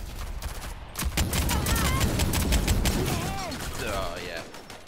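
Rapid SMG gunfire crackles in a burst of Rogue Company gameplay, dense and loud for a few seconds before tapering, mixed with other game effects and faint voice chatter.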